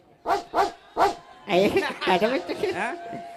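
A man imitates a dog barking with his voice, giving three loud, sharp woofs in a quick rhythm, then a run of yipping, whimpering dog-like sounds close to the mic.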